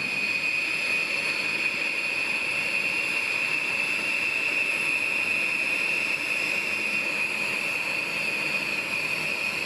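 Steady jet engine roar of a B-1 bomber being delivered to the AMARC aircraft boneyard, a constant high-pitched whine over a dense rumble with no pauses or voices.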